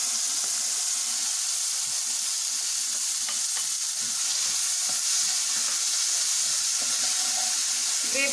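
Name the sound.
gravy added to hot pan with fried cumin and red chili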